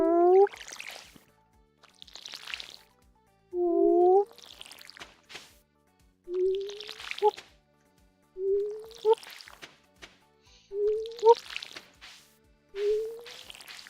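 Watering can splashing crops in Stardew Valley, a series of six short watery splash-and-drip bursts at a steady pace. Each is paired with a person's rising vocal whoop imitating the sound.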